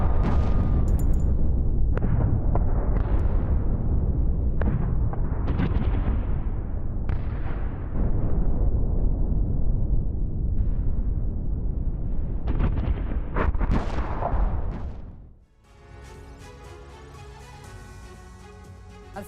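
Explosions from an Israeli airstrike bombing the Al-Furqan area in Syria boom out again and again as loud, rumbling blasts over a constant roar, then the din drops away suddenly near the end into quieter, ringing sound.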